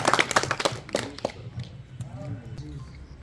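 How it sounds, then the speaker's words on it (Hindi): Applause from a crowd at a Congress party gathering marking the first anniversary of Bharat Jodo in Baramulla, a burst of claps at the start that thins out as voices carry on underneath. "जोरदार तालियों से स्वागत"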